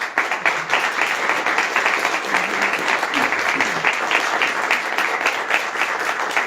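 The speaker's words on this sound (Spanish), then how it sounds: "Con esos mismos aplausos vamos a recibir al cineasta andino José Huamantürpo" Applause at a talk, a dense, sustained burst of clapping from a fairly close audience that holds steady throughout, with a few faint voices underneath.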